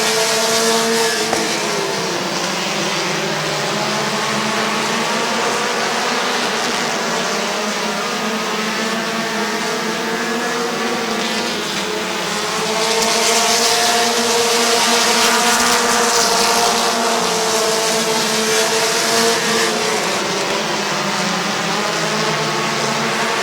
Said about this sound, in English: Lap number 1 to Connor McLean